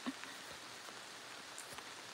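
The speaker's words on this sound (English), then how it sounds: "Do you feel the rain?" Steady rain falls outdoors at an off-grid homestead, a soft, even hiss of drops with faint scattered patters and no one speaking.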